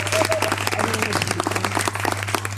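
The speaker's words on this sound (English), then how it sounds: "can we give them a round of applause?" An audience claps steadily after a panel debate on religion and human rights, dense applause filling the room for the whole stretch with a constant hum underneath.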